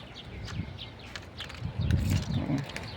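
Birds chirp and tweet outdoors on a warm, windy afternoon, scattered short calls over a rustling background, with a brief low rumble around the middle.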